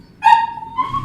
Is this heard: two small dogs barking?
yes